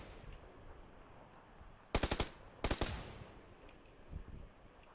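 A shotgun in PUBG Lite fires two loud quick blasts, each breaking into a short rattling burst of reports, about a second apart against a quiet, faintly hissing background.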